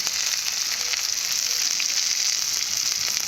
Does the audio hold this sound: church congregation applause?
no